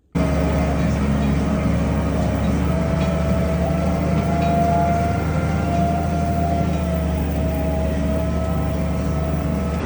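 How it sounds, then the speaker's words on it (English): Loaded farm truck or tractor hauling cattle down a rural road in road gear, a steady loud engine drone with low rumble and tonal whine holding constant throughout, no talking. "Just out here, driving down the road"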